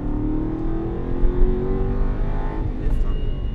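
An Aston Martin accelerating on a track, its engine note rising steadily from a low rumble while an instructor talks over it.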